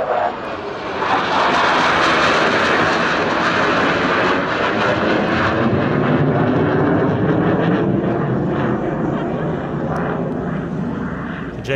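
A Chinese J-10 fighter with an AL-31 engine roars past at an airshow, a loud, broad jet rumble that swells and holds, then slowly fades as it passes, with voices faintly underneath.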